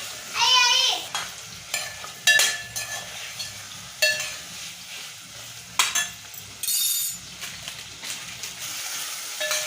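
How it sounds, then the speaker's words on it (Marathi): Chickpeas and potato sautéing in masala for chole pulao, with repeated metal spoon scrapes and clinks against the pan over a light sizzle, up close, in uneven bursts. "छोले आणि बटाटा मसाल्यात चांगले परतून घेतले."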